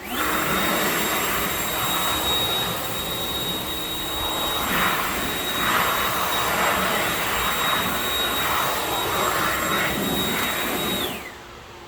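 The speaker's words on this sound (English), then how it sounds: "So you grab your leaf blower, something of the sort, blow the water off." A loud, steady roaring blower runs continuously for several seconds, whooshing air, then cuts off abruptly at the end.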